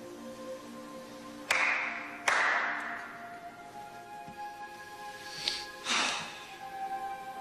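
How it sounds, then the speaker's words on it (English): Two sharp hand claps ring out close and loud, spaced under a second apart over a steady tonal background, followed later by a couple of softer thuds. "Clap twice to make sure your God is listening."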